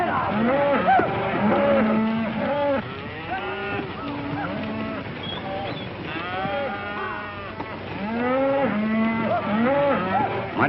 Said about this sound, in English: Mighty fine cattle, boss.